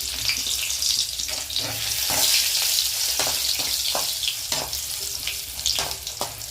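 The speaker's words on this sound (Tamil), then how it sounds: "இப்போ இஞ்சியும் வரமிளகாவும் போடுறோம்" Ginger and dried red chillies fry in a hot pan with a steady, loud broadband sizzle, broken by sharp crackles and stirring scrapes close by, no talking.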